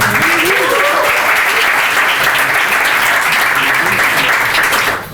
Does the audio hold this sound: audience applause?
yes